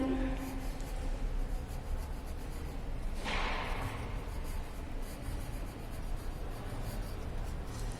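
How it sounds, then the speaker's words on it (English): A pen scratches and rubs across paper in a steady run of writing strokes, with a brief louder scrape near the middle, close and moderately quiet, with no talking. "So write down here Captain Planet"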